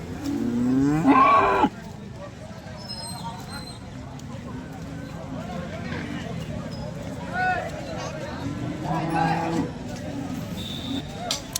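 A cow lets out one loud, close moo, followed by quieter farmyard sounds and people talking in the background at a cattle market in Sangola.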